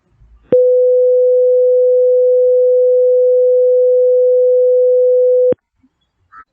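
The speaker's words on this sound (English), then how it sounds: "you will hear the 501 Hertz for 5 seconds" A steady 501 hertz pure sine tone sounds loud and alone for about five seconds, starting and stopping abruptly, with near silence on either side.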